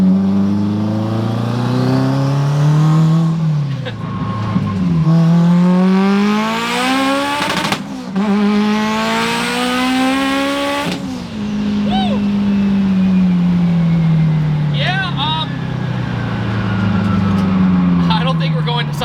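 An 1100 HP Subaru Forester roll-cage street car, its engine loud and close as it revs hard through repeated rising pulls with gear-change dips, the wail sweeping up and falling back while driving.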